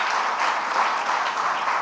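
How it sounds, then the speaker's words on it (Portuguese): Members of a church congregation clap together in a short, even burst of applause during a Sunday celebration service, filling the room with steady clatter. "Eu ia pedir para a igreja aplaudir ao Senhor pela vida de cada um dos visitantes."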